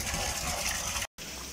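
Natural mountain spring water flows steadily and loudly at close range, a continuous gushing rush along a road from Islamabad to Naran, used to chill cold drinks, with one brief cut near the end.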